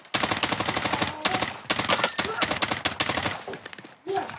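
Gunfire in Call of Duty Warzone, loud rapid automatic bursts in quick repeated volleys with short pauses, close and dominant, with a voice talking faintly in the mix.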